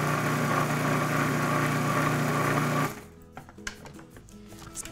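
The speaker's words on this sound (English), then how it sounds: "Let's close up the food processor now, and let's give it a good blend." A food processor blends a pumpkin pie crust with pink Himalayan salt, its motor whirring at a loud, steady pitch for about three seconds before cutting off abruptly, followed by faint clatter.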